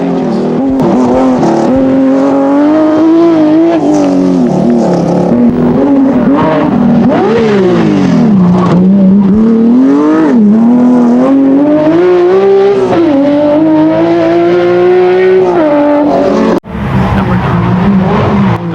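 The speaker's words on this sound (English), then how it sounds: "The BMW M1 in rally." A BMW M1 rally car's engine revs hard and continuously, pitch climbing and dropping as the throttle opens and eases, loud and close with no talk throughout.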